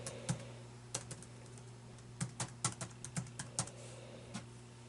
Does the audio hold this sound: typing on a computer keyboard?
yes